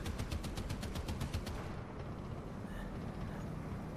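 Gunfire in the combat game War Thunder, a quick run of evenly spaced shots for about a second and a half, then fading into a low rumbling background, fairly faint overall.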